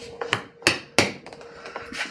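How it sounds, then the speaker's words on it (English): A hammer drives nails into a saddle during reconstruction: several sharp, close knocks at uneven intervals, moderately loud, with quieter taps between them. "I need a hammer."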